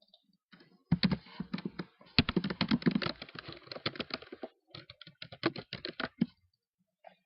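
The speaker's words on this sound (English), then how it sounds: "And you can type." Steady typing on a computer keyboard, a close run of quick clicking keystrokes in bursts with short pauses, alone without speech.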